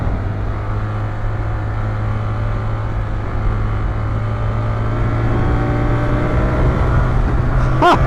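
A BMW R1300GS motorcycle ridden fast gives a loud, steady engine drone close to the rider, holding one pitch and building toward the end.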